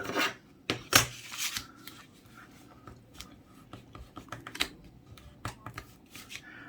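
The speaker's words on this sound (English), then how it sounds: "I want to fold into the middle like so." Close paper folding for a sweet wrapper gift box: a couple of sharp creasing snaps followed by soft scattered rustles and light crinkles, fairly quiet.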